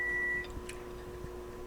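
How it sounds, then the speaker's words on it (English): A kitchen timer gives a steady electronic beep that cuts off abruptly, leaving quiet room tone with faint clicks, and no speech. "That was my timer for 50 minutes."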